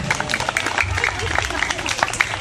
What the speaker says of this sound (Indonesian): Tepuk tangan dong buat adik-adik nih semuanya.